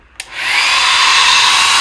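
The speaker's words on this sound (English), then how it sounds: "I'm going to grab my hair dryer. I'm going to use the cool setting just to dry the first design" Hair dryer on its cool setting used to dry a chalk transfer design on a charger plate, switching on with a click and spinning up into a steady loud whooshing blow, close by and without talk.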